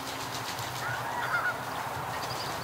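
Geese around a duck and goose hatching pen honk a few times at middle distance over a steady outdoor background hiss, with no talking.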